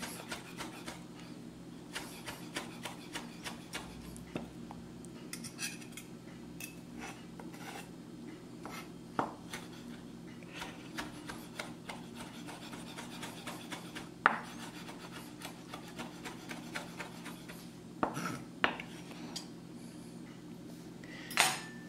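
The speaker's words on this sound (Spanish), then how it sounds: "Ahora sí lo vamos a partir muy finito" A knife slices a deseeded chili pepper very finely on a cutting board, giving irregular soft scraping and tapping strokes with occasional sharper knocks, close and fairly quiet, without speech.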